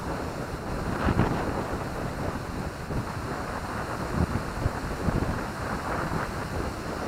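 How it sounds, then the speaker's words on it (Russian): Strong wind buffets the microphone near a flying-wing model aircraft, a steady loud roaring rumble with gusty surges throughout and no speech. "Да, редко приходилось в такой ветер летать."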